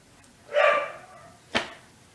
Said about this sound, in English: The damn dog.